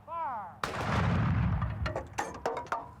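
A 1920s artillery cannon fires ceremonially at the U.S. Army artillery school at Fort Sill, Oklahoma: one loud, close boom with a long rolling echo, then several sharp distant reports.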